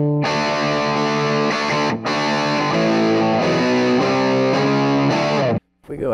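A loud, heavily distorted electric guitar with a humbucker pickup, through a VANGOA distortion pedal, plays thick sustained chords with a couple of brief breaks, ending in a sudden cutoff.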